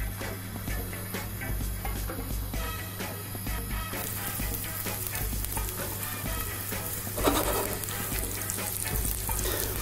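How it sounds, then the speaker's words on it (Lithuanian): Dumplings fry in a splash of oil in a hot pan, giving a steady, close sizzle and crackle throughout with no talking. "pradedame kepti."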